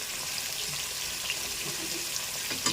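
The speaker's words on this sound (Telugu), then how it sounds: "చక్కగా ఎర్రగా వేపేసుకోవాలి నూనెలో ఇలా గారెలాగా" Bitter gourd pieces deep-frying in oil until reddish, giving a steady, even hiss of sizzling with no pauses, close and moderately loud throughout.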